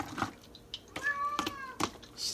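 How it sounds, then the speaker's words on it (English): A cat gives one drawn-out meow, fairly close, with a few soft clicks and rustles around it. "I don't know if you can hear Raspy meowing."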